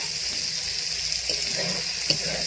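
Potatoes fry in a pan with spice masala, a steady close sizzle throughout with occasional soft stirring scrapes.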